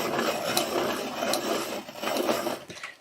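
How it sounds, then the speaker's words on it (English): A coloured pencil is sharpened by hand with a small handheld sharpener, a soft close scraping and rubbing with faint rhythmic strokes, quiet and alone. "Oh, I need to sharpen it."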